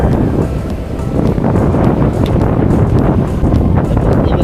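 Strong wind buffets the microphone in rain in Cebu, Philippines, with a loud, continuous, rumbling roar that fluctuates slightly throughout.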